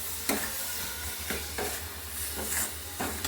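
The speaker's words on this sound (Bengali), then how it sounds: "নারকেলটা দিয়ে দিল খেজুরের গুড়ের মধ্যে, এবার নেড়ে নিচ্ছে ভালো করে।" Grated coconut being stirred into date palm jaggery for pitha, soft sizzling with several rhythmic scraping stir strokes, close and moderately quiet, no talking.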